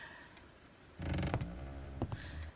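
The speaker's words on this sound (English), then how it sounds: "I don't like creaky noises." Creaking in the video game Serena: after a near-silent start, a wooden, drawn-out groaning creak with a couple of sharp cracks, moderately loud and close, with no one speaking.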